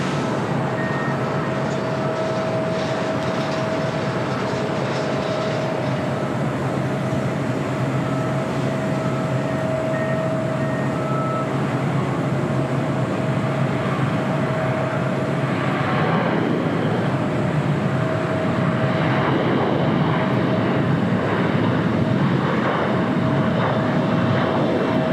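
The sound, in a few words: Sun Country Airlines Boeing 737-800 arriving on runway 25 left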